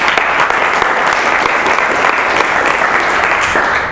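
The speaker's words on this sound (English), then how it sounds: "I'd like you to put your hands together for some applause for our fantastic volunteers, Rob, Babak and Michael" A conference audience applauds volunteers at a Software Freedom Day talk, with loud, continuous clapping from a full room that holds steady from start to finish.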